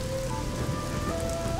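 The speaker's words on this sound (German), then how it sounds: "Ich glaube, auf der Schatzinsel regnet's immer." Rain falls steadily on a treasure island in the video game Risen 2, a constant close hiss of drops with faint tonal game sounds and no speech.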